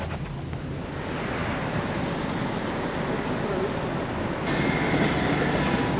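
A train rolls past close by, a broad steady rumble and rushing roar that grows slightly louder toward the end.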